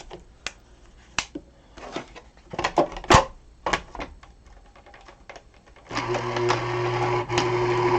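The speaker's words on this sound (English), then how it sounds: "I've got my die cut machine here to the side. So I'm just going to die cut that real quick." A die cut machine runs a postage stamp die through, first sharp clicks and ratchet-like snaps, then a steady mechanical whirring hum for the last two seconds.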